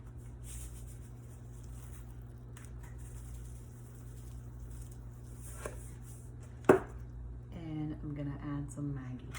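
A knife cuts vegetables for Haitian pikliz with a few faint chops against a low steady hum, then a person starts talking.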